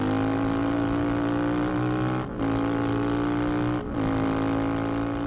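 A cafe racer motorcycle rated at 136 horsepower revs hard in a loud, sustained engine note that holds steady, broken by two brief dips as the throttle lifts between pulls.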